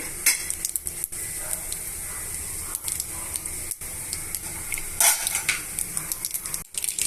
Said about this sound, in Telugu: ఇప్పుడు ఆయిల్ బాగా కాగిపోయిందండి ఇందులోనే మనం వన్ టేబుల్ స్పూన్ ఆవాలు వన్ టేబుల్ స్పూన్ జీలకర్ర